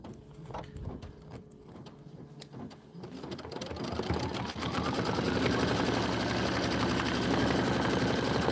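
An embroidery sewing machine stitches out a handle design in rapid mechanical bursts, starting with sparse taps and building into a loud, dense, continuous whirring chatter.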